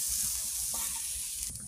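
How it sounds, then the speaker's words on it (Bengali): Fish slipped into a pot of boiling water seasoned with turmeric: a steady close hiss of rolling boil, with a brief disturbance near the end as the pieces go in. "এই যে ফুটছে, মাছ দিয়ে দিব"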